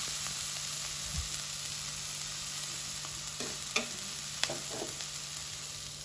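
Onions sautéing in a pan for vegetable cutlets, curry leaves added, give a steady soft sizzle with a few sharp ladle scrapes and clicks against the metal; no voices.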